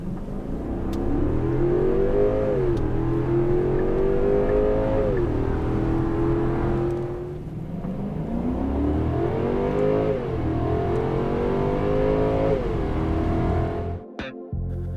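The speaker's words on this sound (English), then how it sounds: "It's full steam ahead on a velvety power surge, complete with tastefully restrained V8 sound effects seeping in from ahead of the firewall." A 2020 Genesis G90's V8 engine accelerates and revs in winter driving, a smooth, restrained engine note rising in pitch through gear changes, steady and fairly loud from the cabin throughout.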